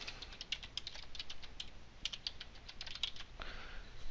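Someone types a short name on a computer keyboard, a quick run of light, close key clicks in an uneven rhythm, fairly quiet, ending with a softer brief mechanical sound, no speech.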